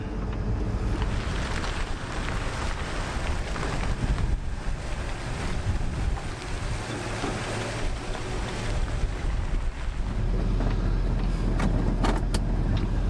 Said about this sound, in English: My truck is moving.